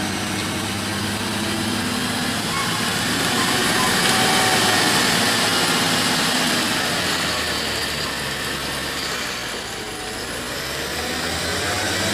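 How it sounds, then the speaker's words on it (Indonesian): Steady stream of motorbike engines on a toll road at KM 120 of the Trans-Sumatra Palembang–Jambi highway after rain, a continuous dense drone of many bikes passing close by, swelling slightly mid-stretch, with no talk over it. "Oh, banyak motor banyak."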